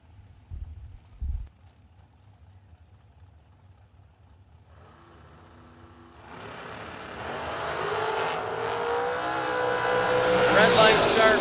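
At a drag strip, a dragster launches and roars off the line. The engine noise swells from faint to loud and keeps building as the car pulls away.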